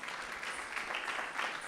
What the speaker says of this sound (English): a big round of applause for Isha